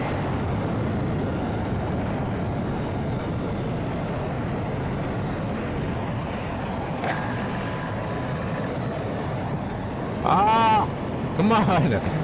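Jet aircraft in the Battlefield 2042 video game roar steadily and loudly throughout, a continuous engine rumble with brief sharper bursts near the end, under background game noise.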